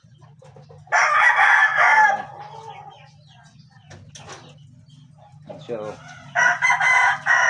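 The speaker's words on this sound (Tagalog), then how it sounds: "yung malaking manok" A large gamecock-type rooster crows loudly twice, first near the start and again at the end. Brief speech and clucking fill the quieter stretch between the two crows.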